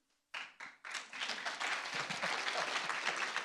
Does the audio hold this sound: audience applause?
yes